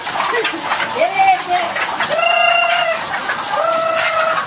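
Hens cluck and squawk in a coop of small egg-laying cages, with several rising calls and steady clucking close by while a person talks over them.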